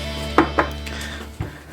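A kitchen knife cuts a seasoned fish for steaming, giving two quick sharp knocks on a board, then a single duller thud after a pause, crisp and close with no talk.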